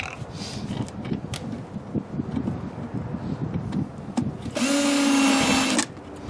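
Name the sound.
driving screws into catch basin grate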